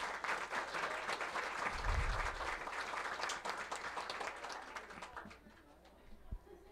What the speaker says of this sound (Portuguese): pedindo uma salva de palmas para as catadoras e para os catadores